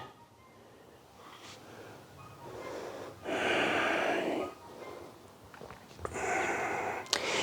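Deep, audible breaths during a morning vinyasa yoga flow, two long airy exhalations close to the listener with quieter inhales between, rushing and slightly wheezy, with no talking.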